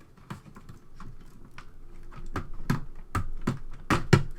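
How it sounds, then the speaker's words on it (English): Keyboard connector being removed from an Acorn Electron computer, heard as a series of sharp plastic clicks and taps, irregular and close, growing slightly louder toward the end. "We'll start by removing the keyboard connector."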